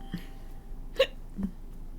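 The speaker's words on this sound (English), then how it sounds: "So many hiccups." A single hiccup: one brief, sharp vocal catch near the middle, followed by a softer small gulp, over a quiet steady background.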